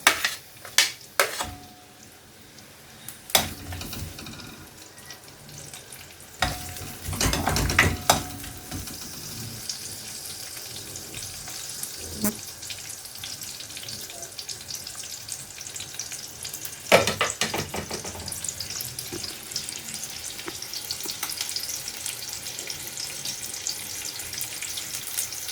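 Onion is dropped into hot oil for vegetable kurma, giving a sudden burst of loud sizzling that settles into a steady frying crackle, with occasional clinks and stirring of the pan nearby.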